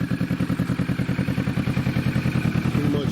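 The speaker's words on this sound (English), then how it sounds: "Pretty much sitting at idle right now." A 2020 Kawasaki Vulcan S fitted with a budget aftermarket exhaust sits idling once warmed up, giving a steady, loud, close-up pulsing putter with an even rhythm throughout.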